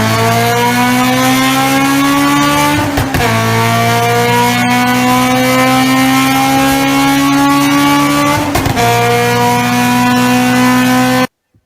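A car engine screams loudly through the gears, each pull rising steadily in pitch before brief breaks at the shifts, then cuts off abruptly at the end.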